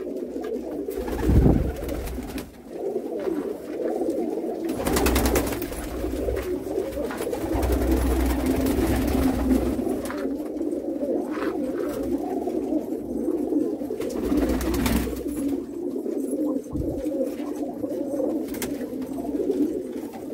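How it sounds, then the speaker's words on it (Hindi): Pigeons, select breeder birds kept for sale in Jammu, coo continuously in a low, throaty chorus, several birds overlapping close by with occasional louder bursts and wing or cage noise. "बड़े ब्रीडर कबूतर बॉर्डरों से लाए गए चुनिंदा कबूतर"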